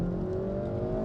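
Hyundai i30 N hot hatch under acceleration, its engine giving a loud, steady, close droning note that holds evenly throughout, with no talking.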